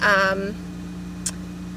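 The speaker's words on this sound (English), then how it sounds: "I just turned on my van." A Dodge van's engine idles with a steady low hum throughout, and a short burst of voice is heard at the start.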